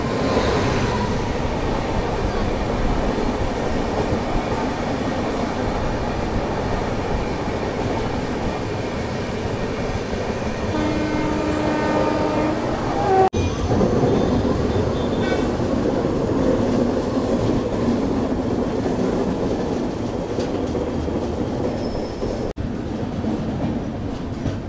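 A passenger train rumbles along steadily from inside the carriage, with continuous rolling noise, faint wheel clatter and occasional squealing tones.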